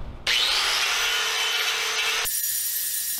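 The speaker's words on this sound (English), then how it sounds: "I'm using a wire cup brush on here with my DeWalt. This makes real quick work with it." A DeWalt power tool fitted with a wire cup brush scrubs old gasket material off a Jeep Grand Cherokee WJ axle housing, a loud, steady abrasive whir that starts abruptly and drops to a fainter spin-down near the end.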